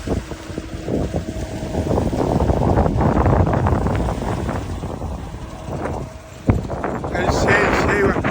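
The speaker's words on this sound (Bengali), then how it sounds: "প্রচণ্ড হাওয়া হচ্ছে, প্রচণ্ড হাওয়া।" Strong wind buffets the microphone on a riverside by the water at Kultali in the Sundarbans, a loud, gusting rumble that surges and eases, with voices mixed in.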